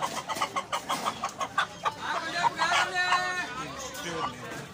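Hens cluck in quick, repeated bursts close by at a Sunday bird market in Islamabad, their clucking continuing alongside other chatter from the flock.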